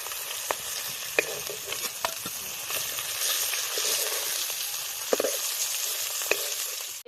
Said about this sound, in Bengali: মাছটা দেখুন কি সুন্দর করে ভেজেছি, এবার তুলে নেব